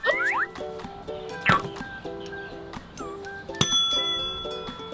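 A bell rung in a children's sea-animal hunting game, bright metallic dings heard several times, some in quick pairs, over a bouncy electronic tune with springy cartoon sound effects, no voices.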